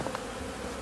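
Honey bees buzz around an apiary hive in a brief, close, steady hum with no voices.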